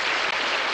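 Studio audience applause during a variety show, a dense, steady wash of clapping filling the whole short stretch with a brief dip partway through.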